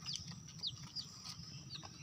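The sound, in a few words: chicken clucking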